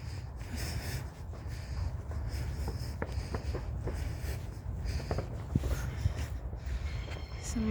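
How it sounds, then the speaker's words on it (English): A train rolls past on the rails during a bonfire night walk, giving a steady close rumble with scattered metallic clicks and squeals from the wheels. "It's the sound of the train."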